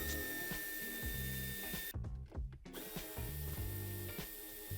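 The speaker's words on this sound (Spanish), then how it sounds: "Quitaremos las dos tuercas a ambos lados de la barra de refuerzo." Nuts come off the bumper reinforcement bar of a 2018–2020 Mercedes C-Class W205 sedan using a 10 mm tool. Close, rhythmic ratcheting and whirring bursts repeat steadily, with a brief quieter gap partway through and no talk.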